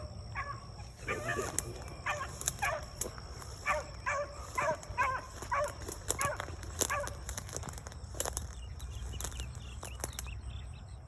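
A hunting beagle bays in a rhythmic series of yelps while chasing cottontail rabbits outdoors in North Carolina, moderately distant, with scattered sharp clicks and a low background rumble.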